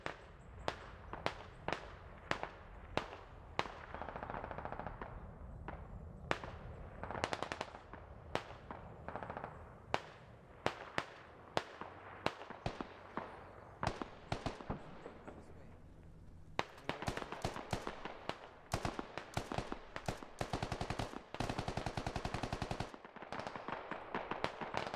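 Explosions and gunfire from a SquadOps firefight, with a mortar barrage mixed in, crack out as loud, sharp reports, some single and some in rapid bursts. The battle goes on for the full stretch, and a voice speaks briefly over it.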